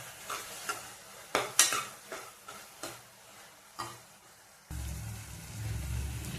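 Potato palya frying in oil in a pan, with a spatula stirring in repeated scraping strokes over a soft sizzle, then a louder, steadier bubbling fry taking over in the last second or two.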